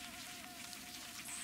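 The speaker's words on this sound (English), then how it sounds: "Where are these bees?" Bees buzzing in the video game Hollow Knight, a faint steady insect drone with a sustained hum running through the whole short stretch.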